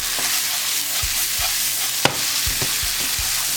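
Chorizo and white wine sizzle loudly in a risotto pan with arborio rice, a steady frying hiss broken by a rhythmic series of spoon taps and scrapes as the mixture is stirred, one sharper clink standing out.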